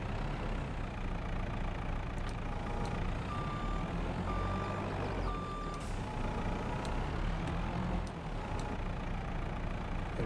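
A truck in Farming Simulator 22 reverses with a steady series of electronic backup beeps over a low idling engine drone, moderately quiet with no talk.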